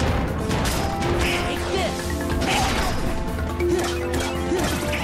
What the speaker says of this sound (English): Oh, he smashed his head.